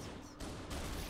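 Pistol gunfire against the Flood in the video game Halo: a dense, loud volley of shots runs through the whole brief moment with no pause.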